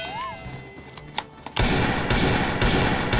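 Rapid Desert Eagle pistol shots in a video game ring out as a loud, dense burst of gunfire, following a quieter stretch with a few isolated thuds.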